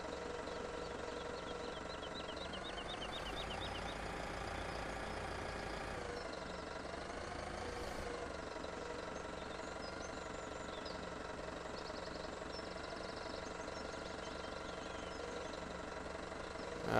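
A truck engine drones steadily while driving in the video game Farming Simulator 17, a constant mid-pitched hum with slight dips in revving, alone with no talking.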